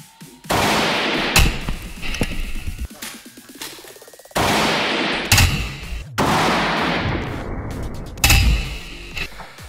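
Mosin-Nagant short carbine made in 1945 firing 7.62×54 rounds at a bulletproof plate from 50 metres: four loud, sharp shots spaced a couple of seconds apart, each followed by a ringing tail and bolt-action clatter.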